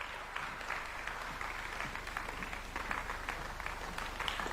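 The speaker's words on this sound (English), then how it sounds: "let's put another warm clap for His Excellency, together with the moderator, Vivian" An audience claps at the Second Africa Urban Forum at KICC, Nairobi: sustained, dense applause that stays even and fairly soft for several seconds, as if heard from across a large hall.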